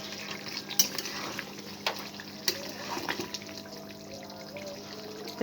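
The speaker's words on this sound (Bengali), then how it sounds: "এখন এটা আমি ঝোলের সাথে একটু মিশিয়ে নেব।" Ground greens paste is stirred into a simmering koi fish curry in a pan, giving soft scraping, occasional spoon clinks and a gentle bubbling sizzle, close and steady.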